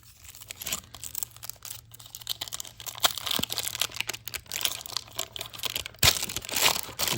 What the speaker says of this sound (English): These foil packs are just a little tough to open.